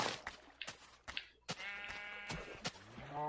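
Sheep bleats from Minecraft on Xbox 360, several short wavering cries spread across a few seconds with sharp game clicks and thuds between them, fairly close and clear.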